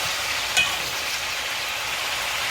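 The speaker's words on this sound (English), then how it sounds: "you want to keep stirring it around to make sure you get that brown color on your oxtail" Oxtail browning in a pot while being stirred, a steady broadband sizzle at moderate level throughout with one brief scrape or clink near the start, no voices.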